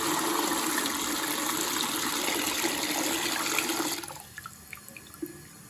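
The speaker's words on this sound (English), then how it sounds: "The sink's taking a long time to go down." Water runs steadily into a sink or basin, then stops abruptly, leaving slow drips and faint trickling as it drains, heard up close in a home bathroom.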